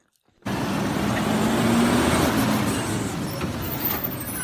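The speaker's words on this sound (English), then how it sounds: "It's the garbage truck showing up." Garbage truck arriving, heard as a loud engine rumble with a faint rising whine from the drivetrain, steady and close for several seconds after a silent start.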